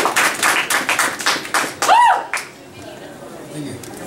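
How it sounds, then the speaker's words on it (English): Audience clapping at a comedy show as a comedian is introduced, loud uneven bursts of claps with a brief whistle-like tone in the middle, then fading to quieter room noise. "So give it up for a warm round of applause for Paul Breezy."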